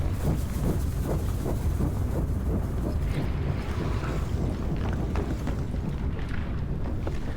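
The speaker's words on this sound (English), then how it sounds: "So some of the steamy noises and the engine noises are from stock material." Train level ambience from the video game DARQ: a steady low mechanical engine rumble with rhythmic clanking and faint hissing steam-like noises running continuously, with no voices.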